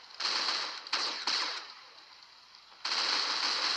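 Rapid automatic AK rifle fire in the mobile game Critical Ops crackles in several bursts of varying length, with short pauses between them, fairly loud with no talking.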